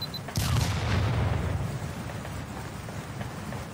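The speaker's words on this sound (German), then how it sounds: "Achtung, explodiert so ein Waschbecken!" A sudden loud blast bursts out as a sink explodes in the video game Hospital 666, then a rumbling, crackling debris roar slowly fades over the next few seconds.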